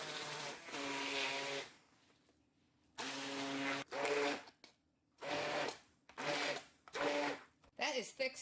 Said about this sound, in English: I'm going to use the immersion blender more when I mix it with the pudding mix